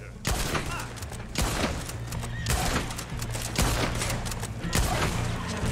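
Enemy gunfire in Red Dead Online: repeated loud shots crack out at irregular intervals over a low rumble, with horse sounds faintly mixed in.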